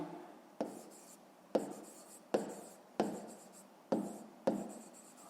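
A pen writes in a notebook during a fifth-grade maths exercise, six scratchy strokes, each starting with a sharp onset and fading, spaced roughly a second apart and close up.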